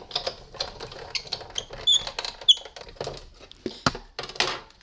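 A small hand-cranked die-cutting machine feeds paper through to cut a heart shape, giving irregular close clicking, ticking and grinding bursts over several seconds without talk.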